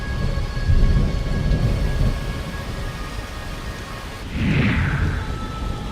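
Heavy monsoon rain in Maharashtra, a loud dense roar of downpour with low rumbling, steady and close, swelling once more toward the end, with no voices.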